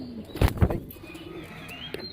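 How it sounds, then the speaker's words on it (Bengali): A pair of pigeons, the female a Lahori cross, at a farm: two short, soft low coos close by, with faint chirps and a flutter of background bird noise. "এখানে এক জোড়া কবুতর দেখতে পাচ্ছি ভাই, মাদিটা লাহোরি ক্রস"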